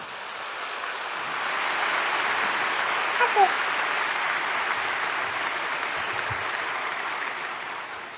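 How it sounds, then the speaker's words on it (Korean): Sustained applause from a crowd at a ceremony before a provincial governor's speech, steady clapping filling the whole stretch at moderate loudness, with a brief murmur of voices partway through. "여러분 따뜻한 가슴의 박수를 보내주시면 고맙겠습니다"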